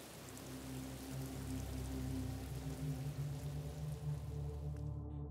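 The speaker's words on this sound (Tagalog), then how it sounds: "Napakalakas ng ulan." Very heavy rain pours down in a dense, steady, loud wash that runs without a break, with a low droning hum underneath and no voices.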